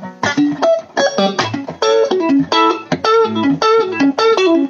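Electric guitar through a 1980 Maxon OD808 overdrive pedal with RC4558 chip, played as a loud, bright melodic phrase of picked notes and short chords with a sharp, trebly edge, up close and alone.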